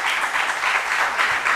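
An audience claps for the winning Wesley Girls Senior High School quiz team at a school quiz contest, a steady wash of applause at moderate level lasting under two seconds.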